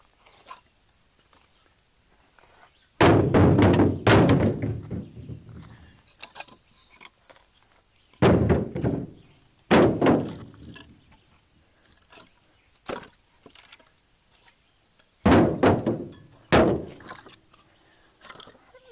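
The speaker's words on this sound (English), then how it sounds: "I'm going to start tossing some of this stuff in." Pieces of dry, barkless firewood tossed in one after another, giving loud close thuds and clatters in clusters separated by quiet pauses, with no talking.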